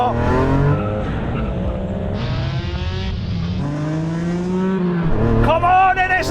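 A Honda NSX and a Nissan R34 drag race in Gran Turismo, engine notes climbing through gears with pitch drops at each shift, loud and close, while a voice excitedly talks over them.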